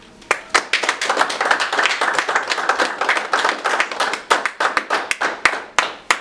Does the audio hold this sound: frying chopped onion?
no